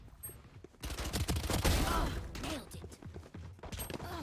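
Spectre SMG gunfire during a Valorant tournament match comes in rapid bursts of sharp shots over a dense, loud stretch, with a commentator talking over the action.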